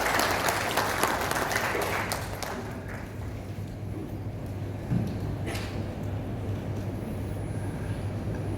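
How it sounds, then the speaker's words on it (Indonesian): Applause at the opening ceremony of a paralegal training event, a sustained round of clapping from an indoor audience that fades slightly and continues steadily, with faint voices underneath. "Mari kita berikan aplaus kepada Bapak."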